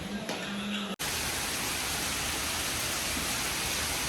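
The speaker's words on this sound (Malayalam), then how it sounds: "മഴയാ." Rain falls in a dense, steady hiss after a brief quieter moment and a sharp cut, continuing loud and unbroken throughout.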